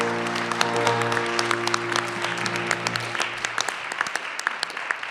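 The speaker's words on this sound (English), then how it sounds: "big round of applause for our round 5 spellers" A spelling bee audience claps for the round 5 spellers in a dense burst of applause that slowly thins into scattered claps, with a low steady hum sounding beneath the first few seconds.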